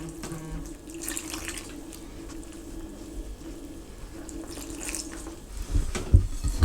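Tap water runs steadily into a bowl while dough is kneaded by hand for meat sambousek, a continuous close splashing flow with a few louder handling knocks near the end.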